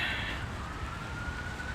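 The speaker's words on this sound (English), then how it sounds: "The sirens don't really help the morning atmosphere" An emergency vehicle siren wails at a distance on an early-morning street in Etobicoke, its tone sliding steadily downward over a constant traffic rumble.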